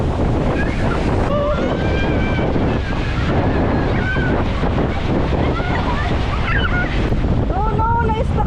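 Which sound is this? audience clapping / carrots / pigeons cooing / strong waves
strong waves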